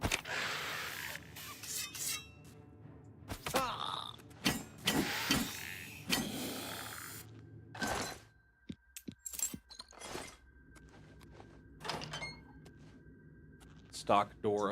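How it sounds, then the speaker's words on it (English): A door swings open with a creak and short clunks in the Oblivion Remastered game, heard among other game sounds and bursts of noise, with a voice talking at times. "Stock door opening sound effect."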